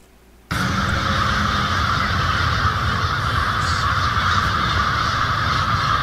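In the Siren Head horror game, set at a haunted campsite, crows caw loudly and continuously, a harsh and steady flock chorus that starts abruptly and holds at full level to the end.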